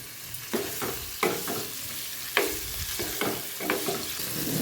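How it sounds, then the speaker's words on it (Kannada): Paneer pieces frying in about three spoonfuls of oil for palak paneer, a steady close sizzle broken by several louder stirring scrapes spaced a second or so apart, with nobody speaking. "ಮೂರು ಚಮಚದಷ್ಟು ಎಣ್ಣೆನ ತೊಗೊಂಡಿದ್ದೀನಿ ಇದಕ್ಕೆ ನೋಡಿ ಪನ್ನೀರನ್ನ ಹಾಕ್ತಾಯಿದ್ದೀನಿ"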